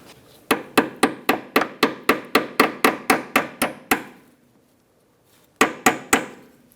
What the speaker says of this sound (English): May have to tap it in with a little hammer.